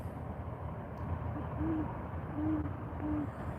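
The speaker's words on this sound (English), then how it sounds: "He's definitely a good sized owl." A good-sized owl hooting outdoors at night, three soft low hoots evenly spaced over a few seconds, moderately distant against a quiet background hiss.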